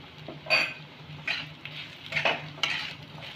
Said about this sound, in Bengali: এবার আমি মশলার সাথে খুব ভালো করে মিশিয়ে নেব।